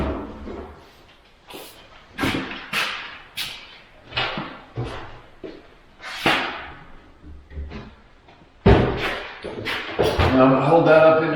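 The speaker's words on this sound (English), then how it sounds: "Okay, let's get some doors on it." Doors are fitted onto a replacement upper kitchen cabinet, with a run of sharp close knocks, clacks and wooden taps at uneven intervals, ending in a busier stretch of handling noise.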